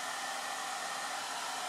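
A hair dryer blows on its high setting, a steady, even whoosh of airflow with a motor whine, constant and alone for a short stretch.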